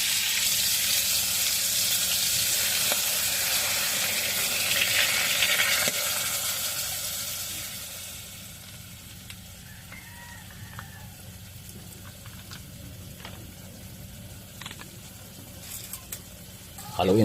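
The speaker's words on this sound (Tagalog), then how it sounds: "Haluin natin ang toyo." Soy sauce stirred into a hot pan makes a loud, bright hiss that fades after about six seconds into a quieter simmer, with faint scraping and light clinks near the end.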